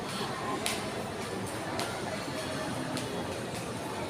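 A Manila MRT train runs along the line with a steady, loud rumble and a roar of wheels, broken by regular clicks over the rail joints, and faint talk in the background.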